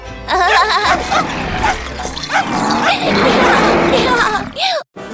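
A cartoon dog yips and barks in quick excited bursts amid busy music and character voices, loud and close, with a brief cut of silence near the end.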